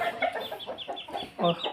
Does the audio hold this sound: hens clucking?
yes